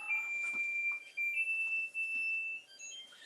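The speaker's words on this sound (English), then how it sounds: "the timer's gonna keep yelling at us" A kitchen timer alarm beeps insistently in a home kitchen, a shrill, continuous electronic tone with brief breaks, fairly loud and close, with no talking.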